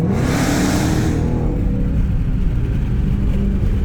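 A Dodge Charger Redeye Hellcat engine roaring loud and close from inside the car as it drives at speed on a highway, a hard rev easing into a deep sustained growl.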